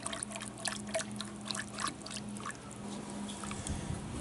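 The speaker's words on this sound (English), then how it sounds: "Go ahead and whisk that all together." Sugar and San Sebastian white wine whisked together in a bowl, quick light liquid splashing and clinking strokes in an uneven rhythm at close range over a low background hum.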